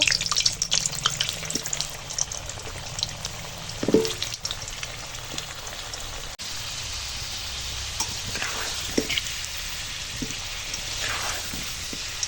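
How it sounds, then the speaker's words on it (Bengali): Potatoes frying in hot oil, a continuous close sizzle broken by a few knocks and utensil taps, with no talking. "তেল গরম হয়ে গেছে আলু ভেজে নেব"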